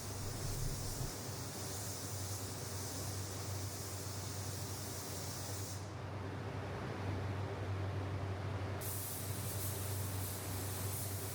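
A steady hiss of a spray gun spraying paint runs continuously, with the airy sound briefly dropping and resuming, no talking.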